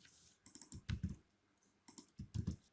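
Credit card details are typed on a computer keyboard in two short bursts of close, soft key clicks separated by a brief pause.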